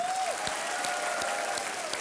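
Dense studio audience applause on the set of the quiz show Kaun Banega Crorepati, a steady even wash of many hands clapping throughout, with a faint sustained tone running beneath it.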